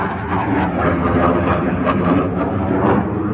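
An airplane passes overhead outdoors, a loud, steady, broadband roar that holds throughout with slight swells and no talk.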